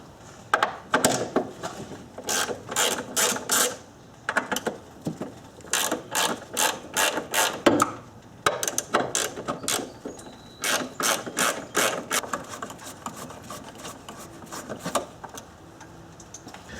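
Ratchet wrench clicking in quick bursts while loosening the upper strut-mount bolts on a late-model Subaru front strut, close and fairly loud, with brief pauses between runs of rapid pawl ticks.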